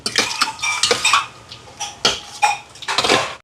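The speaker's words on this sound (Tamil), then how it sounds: "இங்கே நெத்தலி மீனுக்கு வந்து கொஞ்சமாக தனி மிளகாத்தூள் சேர்ப்போம் இதோட உப்பு சேர்ப்போம் கலந்து விடுவோம்" Anchovies being mixed with chili powder and salt in a pan, giving a run of close, sharp clinks and scrapes of a utensil against metal in irregular bursts, with no talking.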